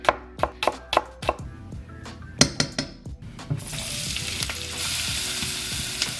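Knife chops shallots on a board in quick, sharp strikes, then a loud, steady sizzle begins as they hit hot beef fat with spices, with no one speaking.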